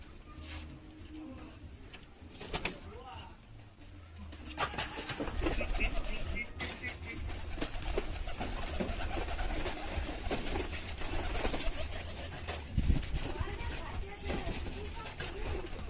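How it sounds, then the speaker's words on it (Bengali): Domestic pigeons are let out on a winter morning, giving soft coos and bird sounds amid fluttering and rustling, with sharp knocks and bumps nearby. "এই যে এখন সকাল 10টা বাজে, এখন আমি পায়রা ছাড়বো"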